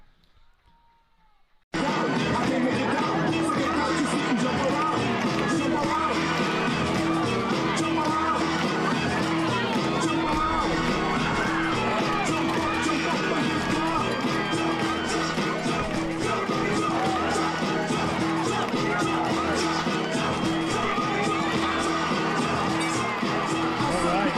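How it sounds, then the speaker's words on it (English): A football crowd cheers at Memorial Field in Minco during a tight fourth quarter of a high school game. After a brief quiet start, the roar bursts in loud and dense and holds steady throughout, with a mass of voices blending into the din. "The fans are in. You can hear them cheering."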